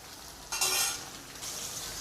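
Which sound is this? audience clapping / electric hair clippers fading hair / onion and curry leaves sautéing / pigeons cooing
onion and curry leaves sautéing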